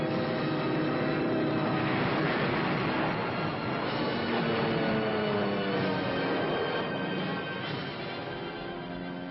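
Wartime propeller aircraft engines roar in a dense, continuous drone with throbbing overtones, loud and unbroken, heard over a narrow, old-film-like sound without voices.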